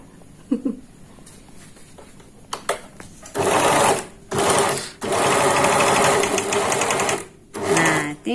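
A portable four-thread Janome 990D overlock serger stitching fabric, loud and close, in several runs of steady whirring motor buzz separated by short pauses, with small clicks and handling noises in the quieter stretches.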